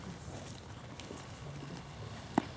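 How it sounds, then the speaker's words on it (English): A mare's hooves clip-clop at a steady walking pace on firm ground, moderately close, with a light breeze of background noise and one sharper knock near the end. "I'm going to walk this horse off"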